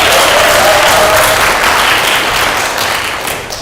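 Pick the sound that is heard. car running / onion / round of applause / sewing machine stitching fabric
round of applause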